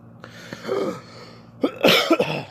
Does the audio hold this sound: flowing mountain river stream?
no